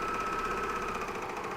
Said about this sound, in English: This is the cover stitch too, so the serger's very quiet as well.